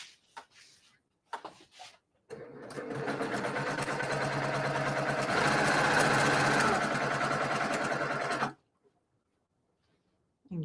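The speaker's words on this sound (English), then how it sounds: "I'm going to sew on the line, and I'm going to assembly line sew all of these at one time" A sewing machine chain-stitches kaleidoscope quilt block pieces along a quarter-inch seam in one continuous steady run of about six seconds, with a few short clicks and handling noises before it and silence after.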